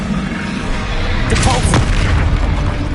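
Expelliarmus spell cast in the Hogwarts Legacy video game, a loud burst at mid-clip with a bright crackling flash that trails off, set over steady game ambience and low rumble.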